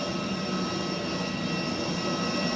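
Airplane engine noise, a steady loud roar with sustained whining tones, heard alone and unchanging throughout.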